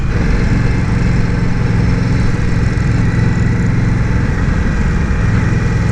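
A 2018 Indian Scout motorcycle engine drones steadily and loudly through a test ride, a constant low rumble with wind noise and no voices.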